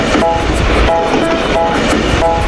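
A small toy train whirs and clicks steadily, its motor buzzing with a repeating rhythmic pattern, loud and close.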